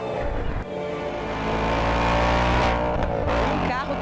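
A powerful Ford Mustang GT V8 engine revs steadily and loudly, the pitch rising and holding at a throaty roar before easing off near the end.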